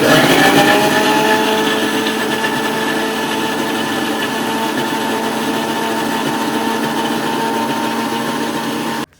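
A kitchen mixer grinder whirring as it blends pineapple and lime with sugar and cold water, a loud steady high-pitched motor drone that runs unbroken before cutting off abruptly at the end.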